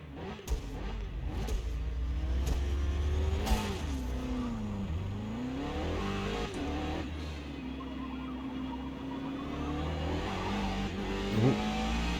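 A Ferrari 488 in the Forza racing game on the Nürburgring, its engine revving loudly and continuously, rising and falling in pitch through gear changes, with a brief tyre squeal near the end.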